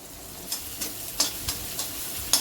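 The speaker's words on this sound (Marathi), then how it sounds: "आपल्याला सगळं फास्ट गॅसवर परतून घ्यायचंय" Onion sautés over high heat with ginger and garlic, a soft continuous sizzle punctuated by about six sharp stirring clicks and scrapes of a spatula against the pan.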